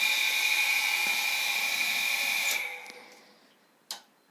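A small jet pump water pump motor fan whirs with a high, steady whine, then winds down and fades out, followed by a single sharp click near the end.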